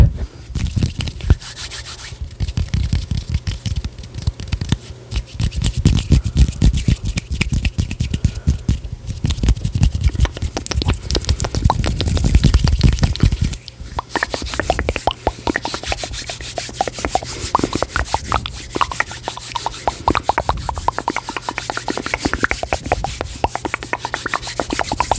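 Aluminum is rubbed, scratched and handled close up for ASMR, giving continuous dense crinkly friction and tapping textures with a brief lull midway and no speech.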